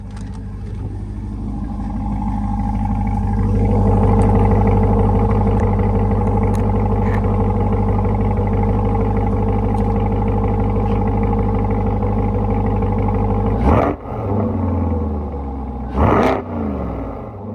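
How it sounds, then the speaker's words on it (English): A modded 2021 C8 Corvette's deep, loud engine idles steadily outside, then blips twice in sharp revs near the end, each rising and falling quickly. "As per request in the last video, I'm gonna get some outside revs too."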